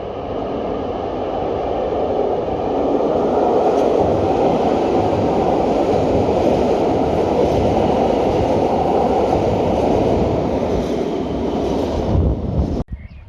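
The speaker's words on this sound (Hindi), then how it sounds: "ये ट्रेन का टनल से निकलते हुए एक मंज़र।" A train rumbles out of a tunnel at Leipzig Bayerischer Bahnhof, producing a loud, steady roar of wheels and carriages that holds throughout and ends with an abrupt knock.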